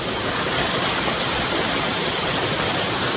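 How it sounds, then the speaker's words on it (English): Waterfall in a tropical forest at a crocodile park in Mauritius, a dense unbroken rush of falling water filling the whole clip, steady and fairly loud with no voices. "There's a nice waterfall down there"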